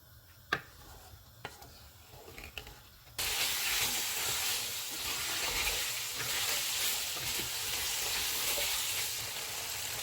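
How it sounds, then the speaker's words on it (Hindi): Chicken in yogurt frying over a high flame until the oil separates. A few light clicks come first, then a loud, steady sizzle and hiss fills the rest, close up. "अब हम चूल्हे को फुल कर देते हैं और इसको ऑयल अलग होने तक भूनेंगे"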